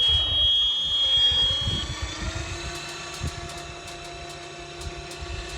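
An automatic gate opener motor whines and hums steadily with a shifting mechanical drone and faint tonal whirring, close by, with no one speaking.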